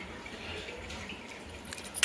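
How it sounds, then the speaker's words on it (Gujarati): Water flows out onto a farm field where jowar is grown, a continuous soft rushing wash with a slight rise in spray at the end and no talking. "આ બધું પાણી આવી ગયું બહેનો"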